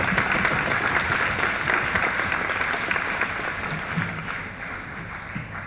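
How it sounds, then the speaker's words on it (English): Audience applause at a national youth parliament event, a dense sustained clapping that stays loud and steady throughout, tapering only slightly near the end. "big round of applause for initiating such"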